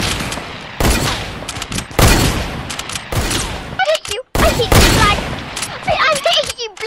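Repeated bursts of Fortnite gunfire crack out loud and close in quick volleys separated by short pauses, with a brief silent gap partway through, followed by chirpy in-game effects.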